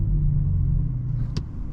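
2024 BMW iX M60 electric SUV accelerating to merge into traffic, a steady low road and tire rumble from inside the cabin with a brief sharp click near the end.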